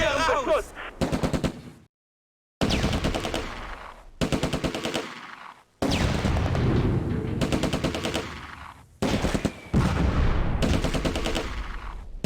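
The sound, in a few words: gunfire in video game Close Combat: A Bridge Too Far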